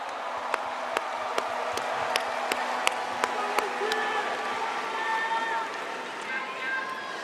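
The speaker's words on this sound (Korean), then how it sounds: "다시 한번 큰 박수 부탁드립니다." Audience at a Democratic Party of Korea national convention claps in a steady, rhythmic unison beat that gradually loosens and fades into a softer crowd murmur.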